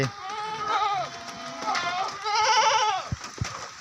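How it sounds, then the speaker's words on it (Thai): Several goats, including small young males, bleat in wavering, quavering calls at close range in a farm pen, with a few overlapping cries and some handling noise in between. "อันนี้แพะตัวผู้เล็กตัวเล็กตัวเล็กตัวผู้เล็ก"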